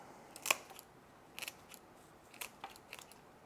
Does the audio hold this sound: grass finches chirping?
no